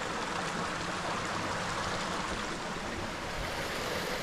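Stream water rushes over rocks near a waterfall in the New Hampshire woods, a steady, full, close hiss of churning water with no talking.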